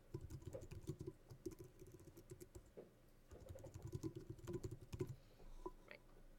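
Computer keyboard typing, quiet irregular clusters of key taps with brief pauses, close but faint, no voices.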